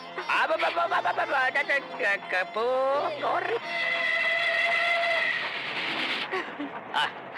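Train pulling into a station with a sustained whistle and rumbling carriages, under voices from a film scene.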